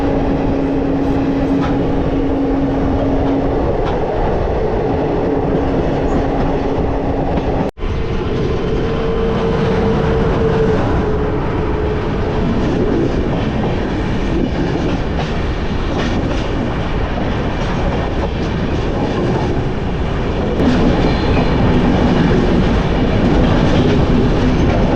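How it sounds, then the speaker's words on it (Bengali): The Rajdhani Express passes close by for the whole stretch, a loud, steady rumble of rail cars with a single sharp clank partway through. "রাজধানী এক্সপ্রেস, রাজধানী এক্সপ্রেস যাচ্ছে"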